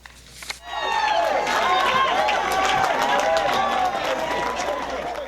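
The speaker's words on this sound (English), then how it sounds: "A loud round of applause rang as 2 women were rewarded with a car for their faithfulness." A loud round of applause and cheering erupts at a church event in Freeport, The Bahamas, as a crowd claps continuously, with excited voices and whoops rising over the clapping after a brief quiet start.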